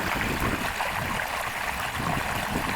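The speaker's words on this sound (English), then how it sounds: "I did go ahead and turn down the water flow some," Water rushes steadily through a silicone sluice box, running at a reduced flow as a continuous, even, broadband hiss and splash that stays close and consistent throughout.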